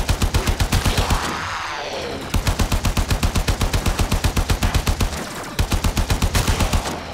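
Warframe primary weapon firing in long rapid automatic bursts, loud and close, with brief pauses between strings of shots and no talking.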